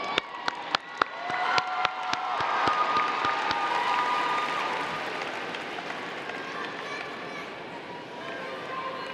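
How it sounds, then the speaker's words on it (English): A graduation ceremony crowd breaks into applause. Several distinct claps ring out at first, then they merge into a broad wash of clapping with scattered cheers that slowly fades. "let's give our family and friends a round of applause"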